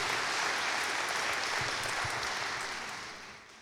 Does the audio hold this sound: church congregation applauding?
yes